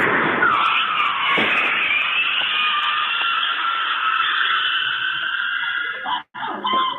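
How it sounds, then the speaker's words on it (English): A long, loud, high-pitched car tire squeal that holds for several seconds before cutting off abruptly, with a brief final chirp. "the tires squealed forever"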